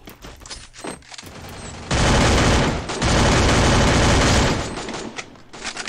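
Gunfire in a video game match: loud, dense bursts of rapid shots dominate the middle, with scattered single shots and game noise before and after.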